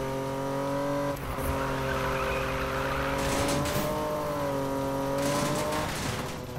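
A car drifting in the Need for Speed racing game, engine droning steadily with long tire squeals and skidding, loud and close, no talking.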